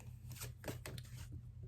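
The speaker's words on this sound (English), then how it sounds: "Wasn't done shuffling." Brief riffling bursts of cards being shuffled, three or four quick rustles close by over a low steady hum.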